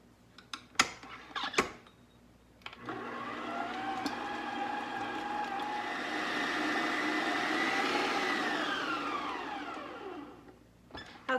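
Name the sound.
electric mixer mixing softened cream cheese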